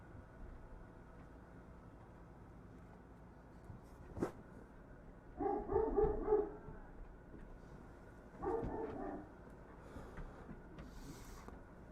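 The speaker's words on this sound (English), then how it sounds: "their bark is really, really loud" A Doberman Pinscher indoors gives a sharp single bark, then two short bursts of loud, rapid barking a few seconds apart, separated by quieter background and a faint whine.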